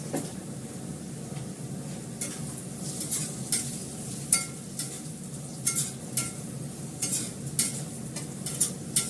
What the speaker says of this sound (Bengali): এবার মেথি শাকটা দিয়ে দেবো। সামান্য একটু মেথি ফোড়ন দেবো